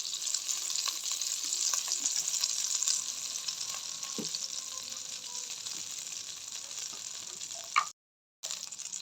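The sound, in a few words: oil sizzling in pan after frying shrimp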